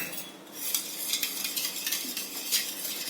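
A spoon scrapes and clinks against a pot as sugar is stirred into a grated pumpkin mixture with cardamom, a steady close-up rustle with repeated light metallic ticks throughout.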